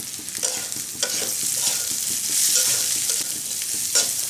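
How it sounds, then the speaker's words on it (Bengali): Lentil masala with turmeric frying in a pan, a steady close sizzle with scrape-and-stir knocks at intervals, no voices. "খুব ভালো করে ভেজে নেব।"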